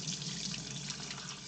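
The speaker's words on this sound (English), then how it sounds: "So I wash my rice until the water is clear, get out most of the starch." Tap water runs steadily into a pot as rice is rinsed until the water turns clear, a close, continuous splashing hiss with no voices.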